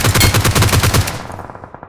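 Rapid automatic gunfire from the battle royale game BGMI sounds in a loud, close burst of about a dozen shots over one second, then trails off into fainter scattered echoes.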